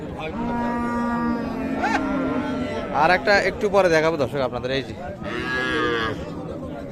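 A young Sahiwal cow with her calf lets out long, loud moos close by at a cattle market, with someone talking over and between the calls.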